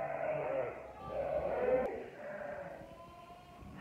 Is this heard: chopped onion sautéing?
no